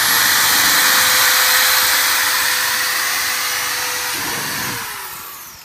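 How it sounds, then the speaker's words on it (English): A power drill with the kit's bit bores holes into a plastic rear cargo box for a Polaris Sportsman 1000 XP, a loud steady whirring hum that runs continuously before slowing and dropping off near the end. "So we're going to drill the 4 holes marked with XP."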